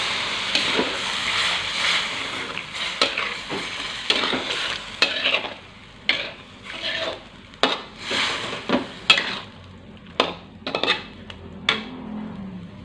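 Fish (salem) and water go into a pan of cooked Balinese spice paste, giving a steady hiss of sizzling oil broken by repeated sharp clinks and scrapes of a utensil stirring against the pan.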